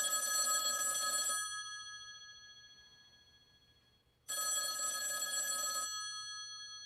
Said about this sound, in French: le téléphone qui est là va sonner